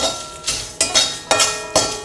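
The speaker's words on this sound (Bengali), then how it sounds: "1 চামচ গোটা জিরে, আর 1 চামচ গোটা ধনে দিলাম। ঠিক এটাকে একটু শুকনো খোলায় নেড়ে নেব।" Whole cumin and coriander seeds with dried chilli are stirred in a dry pan for samosa spice, giving a rhythmic scraping and rattling of a spoon against metal in four close, regular strokes.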